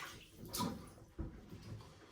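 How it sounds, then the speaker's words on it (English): Hands are rinsed under hot running water at a sink before a wet shave, with soft splashing and a brief louder slosh, quiet and close with no talking. "Wash your hands in the hot water."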